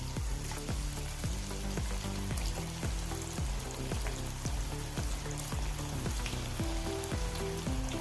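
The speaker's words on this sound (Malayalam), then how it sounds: "ഇനി ഗ്യാസ് ഓൺ ചെയ്ത് കടയിൽ എണ്ണ വെച്ച് കൊടുക്കുക എണ്ണ ചൂടായി കോളിഫ്ലവർ ഇട്ട് കൊടുക്കാം" Cauliflower pieces frying in hot oil in a kadai for cauliflower Manchurian give a steady, dense sizzle that runs through the whole stretch beneath background music, with no talking.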